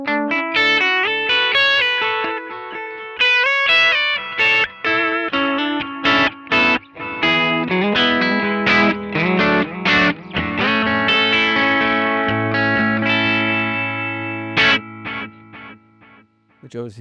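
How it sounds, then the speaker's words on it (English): Distorted electric guitar notes through a VOX amPlug headphone amp ring out with repeating delay echoes trailing each phrase, layered and sustained, with no voices. "I have got the ability to turn the level of that delay up"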